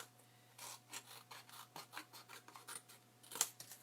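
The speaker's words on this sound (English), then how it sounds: "Hopefully I can trim this one a little bit better than I did the front side." A repeated soft rasping snip of scissors trimming a paper strip for a handmade prayer request book, quiet and close, in a steady run of short cuts with faint room hum.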